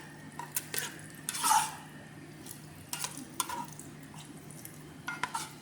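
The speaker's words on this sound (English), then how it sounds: "We're going to give this a good stir." Spoon stirring Brunswick stew of onions, garlic and diced tomatoes in a pot, giving faint scraping and clinking knocks with one louder scrape, over a low steady simmer hum.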